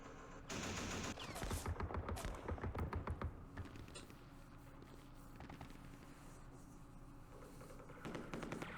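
Rapid bursts of machine gun fire from a wargame set in the Vietnam War at Khe Sanh Village, 1968, crackle loudly for a few seconds, then give way to a quieter rumbling battle backdrop with a brief flare of shots near the end.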